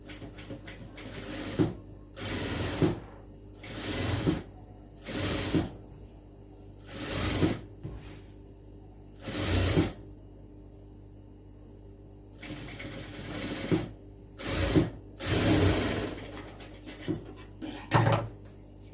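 A sewing machine stitching a lined churidar runs in short, loud mechanical bursts of a second or two, separated by quiet pauses, with a faint steady hum in the gaps.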